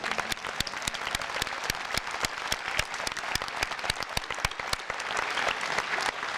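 An audience at a high school commencement ceremony claps in sustained applause, dense and even, with no one speaking over it.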